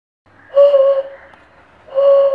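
Breath blown across a glass bottle partly filled with water gives a higher-pitched hollow whistling tone, sounded twice with a breathy onset and a short gap between, close and clear with no talk.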